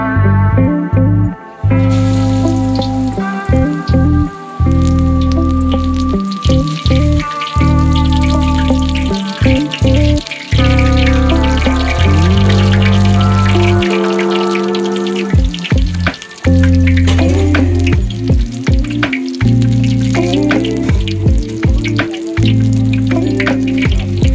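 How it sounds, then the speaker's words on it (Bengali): Pumpkin flowers dipped in batter deep-frying in hot oil, a steady, close sizzle that runs through the whole stretch beneath louder tonal music. "এবার আমি কুমড়ো ফুলগুলো এই তেলের মধ্যে ছেড়ে দেব"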